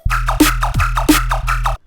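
A lion roar sample hits twice over a loud jump-up drum and bass loop, heavy low bass throbbing under snappy drums in a tight, repeating pattern.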